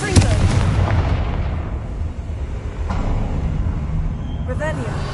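A Confringo blasting spell cast in Hogwarts Legacy: a loud, close burst at the start that rolls into a long, rumbling decay, with a brief whooshing flourish near the end.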